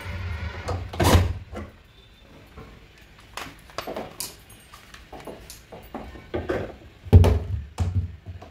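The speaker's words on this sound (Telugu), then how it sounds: "ఇప్పుడు క్లోజ్ చేస్తున్నాను" A cupboard door fitted with hydraulic pumps swinging shut, two soft thunks a few seconds apart among light handling knocks, close by in a quiet room.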